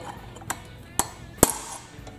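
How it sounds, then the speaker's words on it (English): Three sharp metallic strikes spaced about half a second apart, the last one loudest, a hammer tapping a punch while repairing the recoil starter of a Craftsman mini tiller, with a quiet background. "So you're going to need a punch and a hammer."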